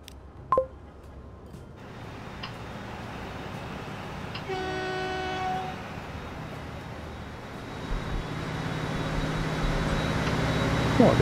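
The V100 diesel locomotive from the game Transport Fever 2 rumbles steadily, with a sustained horn blast partway through and clanks at the start, growing louder toward the end, with no talking.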